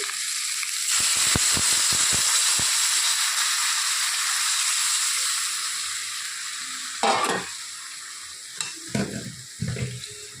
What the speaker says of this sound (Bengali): এখন এর মধ্যে দিয়ে দিব ঝোল